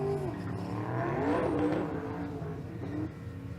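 Drag race car at a street car drag racing event, engine roaring as it accelerates down the strip, rising and then fading as it passes into the distance.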